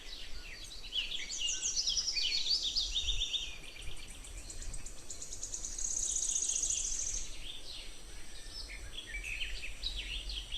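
Crickets chirping at night in a forest at Mudumalai Tiger Reserve in Tamil Nadu, with bursts of high, rapid pulsed trills rising and fading over quiet ambience and no talk.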